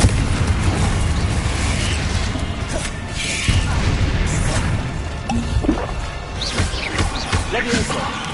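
Confringo spell blasts in Hogwarts Legacy burst and crash repeatedly amid loud, busy game combat, with a player shouting over the explosions.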